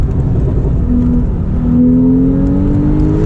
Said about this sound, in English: even though it's a turbocharged motor, they did pretty good with the flat 6 sound